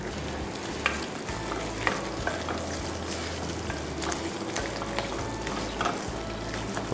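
Mutton masala frying in a pot while being stirred: a steady close sizzle with repeated scraping strokes of a spoon through the thick mixture, no voices.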